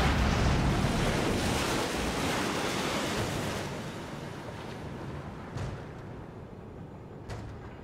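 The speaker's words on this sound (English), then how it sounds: "water!" Water waves in The Evil Within, a loud rushing surge that slowly fades into a softer, steady washing sound, with a couple of faint knocks near the end.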